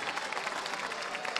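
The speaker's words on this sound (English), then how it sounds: "clap it up for your team leaders" A chapel crowd bursts into sustained applause for team leaders, dense and steady clapping filling the room for the whole moment with no clear speech over it.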